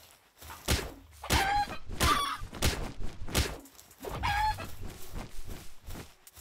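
Repeated bursts of chicken clucking from a video game character, loud and close, coming in several clustered squawks with short gaps between them and no talking over the sound.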